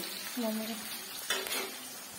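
Whole spices crackling in hot oil as tempering for a mango chutney, a brief soft sizzle with a short scrape or stir, faint and close in a home kitchen, with a murmured voice.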